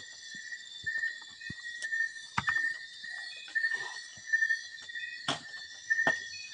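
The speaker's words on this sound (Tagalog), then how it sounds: "Ang daming naririnig naming mga tunog. Ano ba yung mga gangis? Ano? Mga kuliglig." Crickets chirp in repeated short bursts in the countryside of a rural province, a thin high trill recurring every second or so over quiet background with scattered faint clicks.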